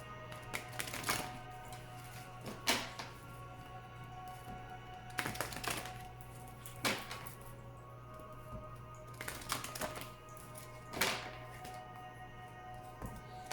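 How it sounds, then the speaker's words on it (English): Oracle cards are shuffled by hand in repeated bursts, each a sharp riffling flutter separated by quiet pauses, close and fairly soft over a low steady hum. "Please think of your question as I shuffle the cards."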